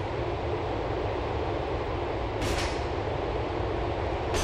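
A train rolling along the Algonquin Outer Line in Grand Theft Auto IV, a steady dense rumble of wheels on track, loud and close, with brief hissing bursts and no voices.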